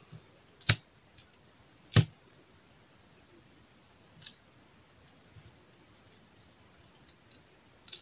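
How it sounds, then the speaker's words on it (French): A few sharp, isolated clicks of a lighter being struck near the mic to burn ribbon ends, spaced apart over a quiet background. "Vous allez prendre votre briquet et vous allez brûler les extrémités."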